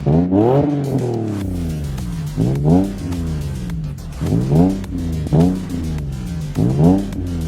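Nissan 350Z Rocket Bunny with a modified exhaust revving repeatedly, each rev a sharp rise and fall in pitch, five or six blips in a row, loud and close.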